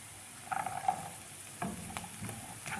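Carrots and peas being fried and stirred in a pan for a pasta dish, with a soft background sizzle broken by a few clinks and scrapes of the spoon against the pan, no voices.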